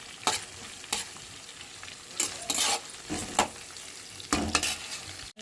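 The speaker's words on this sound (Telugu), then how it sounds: "ఆనియన్స్ కూడా ఫ్రై అవుతాయి అలానే కరివేపాకు వేసి కూడా బాగా ఫ్రై చేసుకున్నాం" Onions and curry leaves fry in a hot pan while a spatula stirs them, giving a steady close sizzle broken by repeated scraping strokes against the pan.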